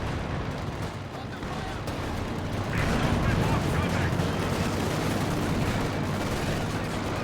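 Katyusha rocket barrage and gunfire in a Company of Heroes 2 match, a dense, continuous rumble of explosions and rattling shots that grows louder midway and stays heavy to the end.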